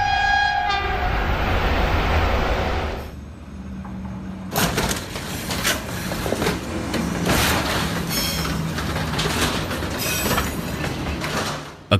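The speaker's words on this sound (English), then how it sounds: "watch the terrifying moment an Amtrak train narrowly misses a high-speed collision with an oncoming CSX freight train" An Amtrak passenger train passes close to an oncoming CSX freight train. A loud horn blast opens, then breaks off into a rumbling, clattering rush of rail noise that fills the rest of the scene.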